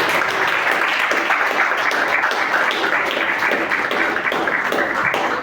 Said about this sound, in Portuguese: As palmas do meu Senhor Jesus.